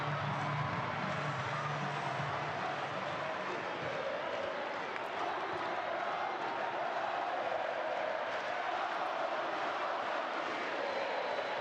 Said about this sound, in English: The crowd are getting right behind the home side here.